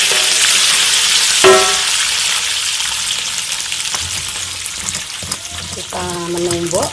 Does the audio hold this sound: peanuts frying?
yes